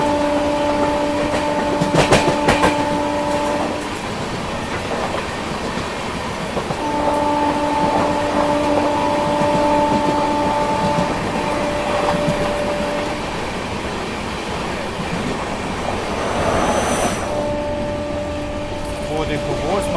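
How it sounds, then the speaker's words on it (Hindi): An Indian Railways train overtakes the Gorakhpur Dadar special on the Gorakhpur to Varanasi line, with a loud rumbling roll and clickety-clack broken by several long, sustained horn blasts. "शायद ये मेरे ख्याल से गोरखपुर दादर स्पेशल इसको ओवरटेक कर रहे हैं"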